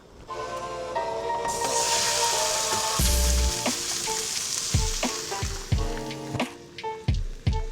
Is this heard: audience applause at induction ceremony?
no